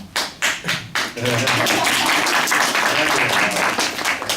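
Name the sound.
clapping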